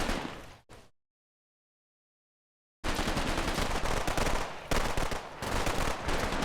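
Bursts of submachine gun fire from the Combat Mission: Red Thunder wargame, a short loud volley that cuts to silence, then sustained dense automatic fire from many weapons rattling on for several seconds.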